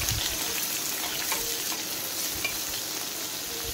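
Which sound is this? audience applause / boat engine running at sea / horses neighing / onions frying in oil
onions frying in oil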